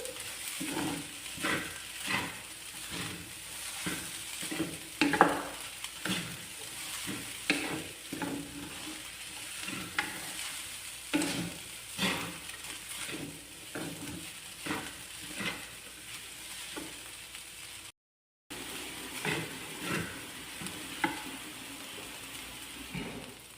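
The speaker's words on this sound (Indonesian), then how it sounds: "Kita masukkan wortel, jagung, dan kacang panjang. Kita aduk." Carrots, corn and long beans sizzle in a frying pan while being stirred, with rhythmic scraping strokes of the utensil repeating every second or so over a continuous close sizzle, briefly dropping out once.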